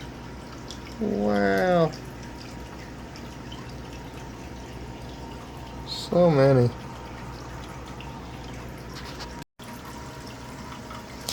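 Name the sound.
water draining out of a shrimp tank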